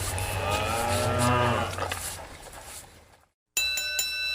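Cattle moo in a long, loud, drawn-out call that fades away. It is followed by a sudden silence and then a bright chiming tone.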